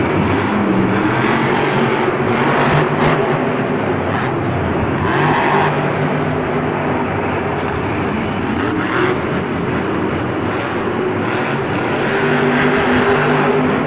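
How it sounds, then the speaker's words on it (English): A monster truck engine strains at Monster Jam in Houston, a loud continuous roar echoing through an arena full of crowd noise, with no clear breaks. "The engine doesn't sound right though. I feel like that engine's straining a little bit."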